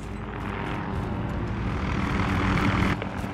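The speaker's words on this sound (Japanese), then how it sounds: "バルコフがヘリを投入してきた" A military helicopter in Call of Duty: Modern Warfare, a steady loud rotor and engine drone that holds throughout and swells slightly toward the end, with no talk over it.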